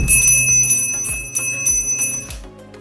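Bells ring out loud and clear in a quick run of repeated strikes, each stroke leaving a bright, lingering ring, with no voices.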